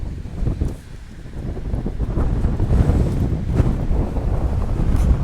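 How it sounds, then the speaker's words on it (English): Strong gusty wind roars against the microphone in a misty forest, a continuous low buffeting rush that swells and eases without letup. "Very, very misty and very windy this morning."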